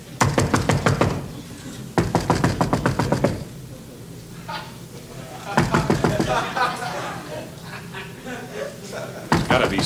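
Knocking on a door in a televised comedy sketch: three separate bouts of rapid, loud, rhythmic knocks with quieter stretches between them that carry some faint voices.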